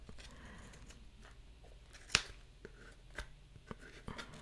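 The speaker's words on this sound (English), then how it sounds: "now take your scissors and cut the very bottom of it" A single sharp snip of scissors cutting yarn for a crochet gnome stands out amid faint rustling and handling noises, followed by a few softer clicks.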